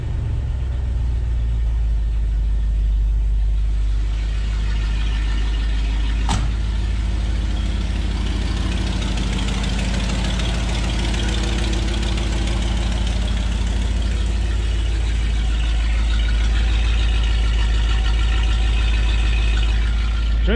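A 1969 Ford F-350 flatbed truck idles fast after a cold start with the choke pulled out. Its engine keeps up a steady, loud rumble throughout, with one sharp click partway through and no talking.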